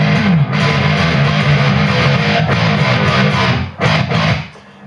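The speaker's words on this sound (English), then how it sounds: "this is going to be a guitar and amplifier with distortion or gain on around 4" Electric guitar played through an amplifier with distortion gain set around 4, a dense sustained tone that runs steadily with a brief dip near the end and no talking.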